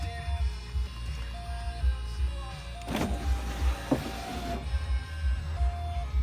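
Electric power window on a 1994 Volkswagen Corrado VR6 with a new driver's window regulator whirs as it moves, heard over the steady idle hum of the running car.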